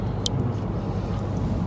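Car driving on a highway in India past Bareilly, heard as a steady low road and engine rumble with constant, even loudness and no talking.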